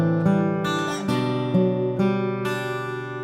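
Acoustic guitar plays the opening chord progression of a song, with several picked chords changing roughly every half second and ringing close and clear, with no voice.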